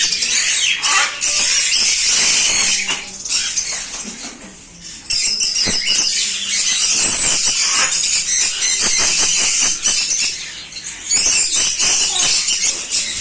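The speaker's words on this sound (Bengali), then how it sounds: "তো ম্যাকাও পাখির ডাকটা আপনারা শুনুন।" Macaw squawks fill a pet bird shop, loud and near: harsh, repeated screeching calls in dense bursts with other bird chatter mixed in, running almost continuously.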